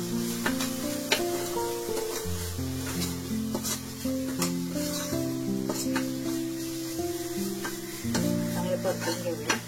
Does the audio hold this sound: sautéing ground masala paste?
yes